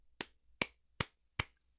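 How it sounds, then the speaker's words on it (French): Four sharp hand claps spaced about 0.4 seconds apart, crisp and fairly close, each ringing briefly over near silence. "Je viens d'applaudir pour vous, je suis fier de vous."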